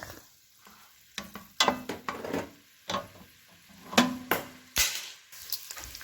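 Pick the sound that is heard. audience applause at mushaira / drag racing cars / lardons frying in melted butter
lardons frying in melted butter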